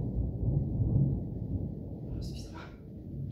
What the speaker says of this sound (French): Je ne sais pas si vous avez entendu le tonnerre ou l'orage, que sais-je.